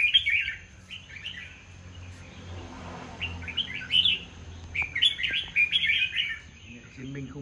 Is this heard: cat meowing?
no